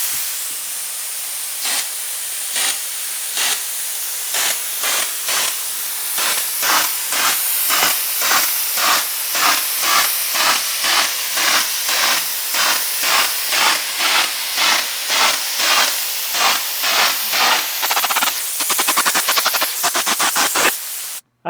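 Rhythmic hissing bursts from a drywall texture sprayer coating sheetrock, dozens of short pulses in a steady sequence that speeds up near the end.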